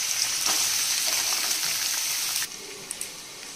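Beans and carrots dropped into hot oil in a wok, giving a loud, dense, close frying hiss that drops sharply partway through, followed by a quieter sizzle with a couple of small pops.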